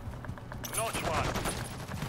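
Rapid bursts of gunfire in a video game firefight, quiet and somewhat distant, mixed with a voice speaking over the shooting.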